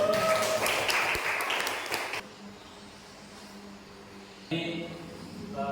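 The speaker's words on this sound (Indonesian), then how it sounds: "Beri tepuk tangan untuk" A short burst of scattered clapping from a small class group, cutting off after a couple of seconds into quiet room noise.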